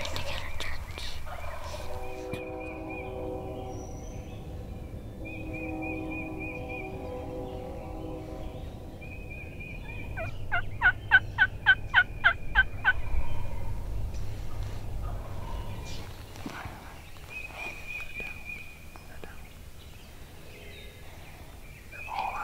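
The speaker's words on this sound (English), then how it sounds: "They're gobbling a lot." Wild turkeys in Michigan gobbling from a distance, a rapid rattling burst of about half a dozen pulses standing out over steady outdoor background, with other soft bird calls around it.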